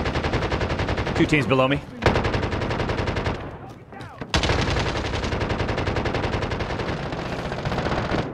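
Gunfire in the Warzone video game crackles in dense rapid bursts, loud and close, with a brief lull before the automatic fire resumes; someone talks over part of it.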